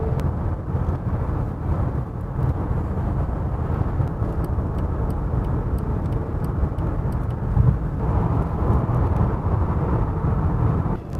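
Continuous broadband road and engine rumble from inside a car cruising along a road, steady and fairly loud with wind-like hiss, no talking.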